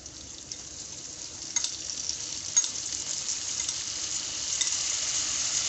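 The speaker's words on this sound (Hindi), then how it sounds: "अब इसके अंदर मैं लेमन जूस डालनी हूँ।" Green chillies fry on a very low flame as lemon juice goes into the pan, giving a bright hissing sizzle that builds slightly with a few sharp spits and scrapes.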